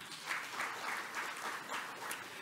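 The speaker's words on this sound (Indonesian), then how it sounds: "Keuangan, tepuk tangan semuanya" Applause from an audience at an Indonesian event on the Muslim fashion industry and Islamic economy, a steady wash of clapping at moderate level with faint swells, heard alone.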